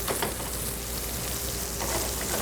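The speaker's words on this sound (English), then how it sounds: "So can you hear that? Sautéing." Food sautés in a hot pan for pasta al pomodoro, a dense loud sizzle filling the whole stretch without pause.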